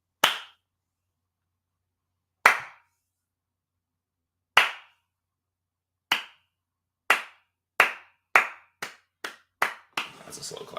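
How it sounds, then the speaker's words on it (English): Slow hand clapping: single sharp claps spaced a couple of seconds apart at first, then coming quicker and quicker until they run into a short flurry at the end, close and alone. "That's a slow clap."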